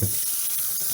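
Warm tap water runs steadily with a soft, hissing splash, filling a Rug Doctor Pro carpet cleaner tank, close by and alone, with no talking over it.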